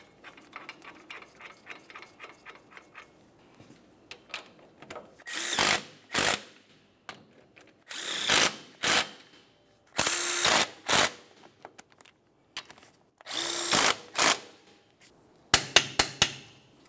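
Ratchet clicking in bursts while snugging the ball joint mounting bolts on a 1994-2002 Dodge Ram 2500 front suspension, several separate rapid runs of pawl clicks with short pauses between, close and fairly loud.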